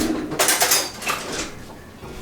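Cutlery rattled and clinked together as a knife is hunted for in a kitchen, a few close metallic jangles in brief bursts, then quieter shuffling.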